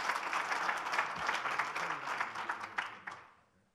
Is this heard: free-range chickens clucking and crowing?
no